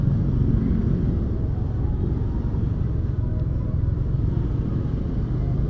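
Heavy stop-and-go traffic in Parung town, with cars and motorcycles making a steady, dense low engine rumble that carries on unchanged for several seconds, close and fairly loud.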